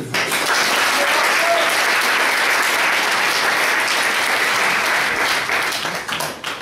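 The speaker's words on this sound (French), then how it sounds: "Applaudissez-le." Audience applause after a speaker is introduced at an eloquence prize event, a dense, steady wash of clapping that holds loud and even for about six seconds before thinning slightly at the end.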